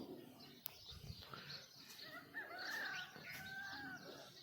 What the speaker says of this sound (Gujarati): જો કુકડો બોલ્યો સંભળાય તો.